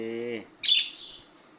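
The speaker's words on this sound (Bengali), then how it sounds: "আমার ছোট পাখিগুলো দেখেন এই যে কিচিমিচি করতেছে" Pet budgerigars give a short, bright chirp at close range after a brief stretch of human voice, with the bird call standing out clearly on its own.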